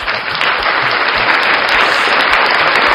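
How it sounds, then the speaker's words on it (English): Loud, dense audience applause fills the whole stretch, a thick continuous roar of many clapping hands with no voices on top. "Clap for me now, guys."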